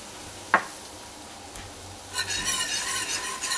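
Flour goes into a hot mustard sauce in a pan and is stirred in, a sharp utensil knock followed by soft scraping and a growing sizzle, close and quiet with no speech.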